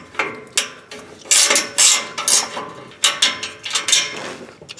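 Repeated ratcheting clicks from a wrench working loose the header flange bolts on a car engine, in quick bursts of sharp metallic ticks, close and fairly loud with no talk.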